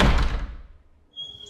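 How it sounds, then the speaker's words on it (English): A door shut hard with a loud crashing slam that rings out and decays over about a second, followed by a faint high rattle, no talk. "The crash when you close the door."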